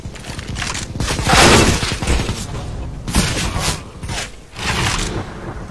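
Heavy gunfire rings out in a Christmas snowball shooter game, coming in loud rattling volleys that rise and fall over several seconds, with distant booms and almost no talking.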